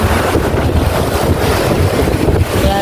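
Sea waves crash and surge amid heavy wind buffeting the microphone, a loud, continuous roar of surf and gusts with no voices.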